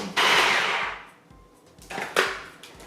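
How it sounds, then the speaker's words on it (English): A food processor blends a carrot cake energy bar mix, its motor whirring in loud close bursts that rise, fade, and start again. "now all we do is pop the lid on and let the food processor do its thing"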